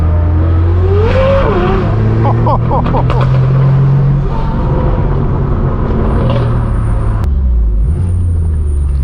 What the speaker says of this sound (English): Looks like another car from the meet.